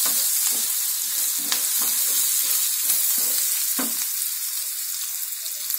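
Chopped onion sizzling in hot oil in a pan, with a steady close frying hiss and a run of soft stirring scrapes about every half second.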